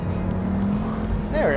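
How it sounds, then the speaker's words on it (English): A 2014 VW Beetle Convertible idles with a droning engine, then its front tires briefly squeal with a rising whine as the car pulls away, while a voice talks over it. "you can get the front tires to spin just a little bit"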